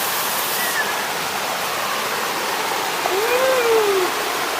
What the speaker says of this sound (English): There's a nice little cascade right in front of me.